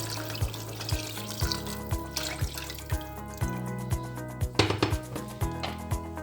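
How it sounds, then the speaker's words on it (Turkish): About two litres of water going into a pot of green celery soup, with sloshing and splashing mixed with regular knocks and clinks of kitchenware, close and fairly loud, no talking. "2 litre kadar suyumuz var. Onu da ekliyoruz üzerine."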